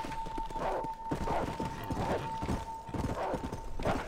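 A horse gallops in the Red Dead Redemption video game, with a steady rhythmic clip-clop of hooves at moderate level under a faint constant tone.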